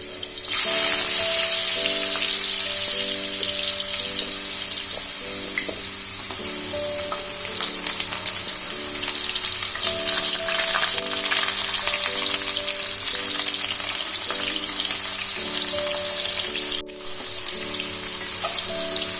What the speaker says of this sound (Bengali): এবার আলুগুলোকে ফ্রাই করে দেব।